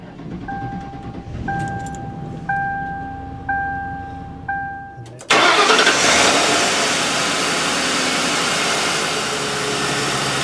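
Chimes ping repeatedly, then a 2004 Mercury Grand Marquis engine cranks and catches after a battery replacement, roaring to life and settling into a loud steady idle.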